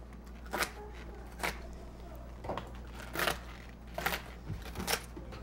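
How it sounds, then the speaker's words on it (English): Stems for a flower arrangement are snipped in a series of about six or seven crisp, close cuts spaced roughly a second apart, over a low steady background hum. "Robin, would you cut all that for me or hold it?"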